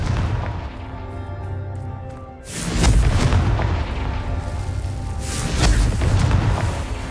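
In Hogwarts Legacy, a Confringo fire spell lands with a heavy, booming blast. A low rumbling explosion is followed by crackling fiery bursts that swell again a few seconds later, loud and close.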